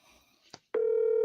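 Telephone line on a podcast call, with a brief click or handset noise followed by a loud, steady continuous tone like a dial or busy tone that holds alone to the end.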